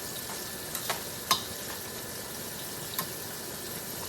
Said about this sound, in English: while it's still hot, you want to go ahead and get that butter all around in there